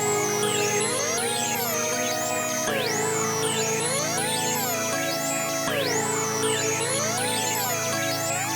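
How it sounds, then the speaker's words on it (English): A synth lead preset plays a bouncy counter melody pattern in an FL Studio beat, gliding up and down in a repeating phrase over a steady sustained bed, loud and continuous with no talking. "I grabbed this little lead preset because I figured we needed a little counter melody"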